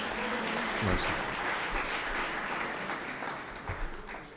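Audience applause at a poetry mushaira (Urdu poetry recital) in Bahrain, a steady wash of clapping from a sizable crowd lasting several seconds, with a few louder claps near the start.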